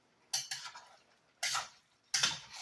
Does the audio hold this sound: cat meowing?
no